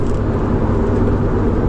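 A Mazda RX7 drives with a loud, steady, close engine rumble and whir, continuous and unbroken, with no voices.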